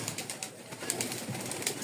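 Pigeons at a pigeon farm coo softly and repeatedly, low and somewhat faint, against a steady background hiss with no voices.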